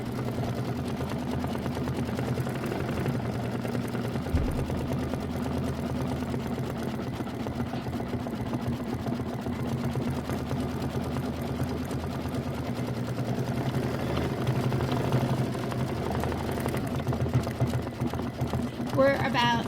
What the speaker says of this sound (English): We're about 8 minutes into our 22-minute stitch out.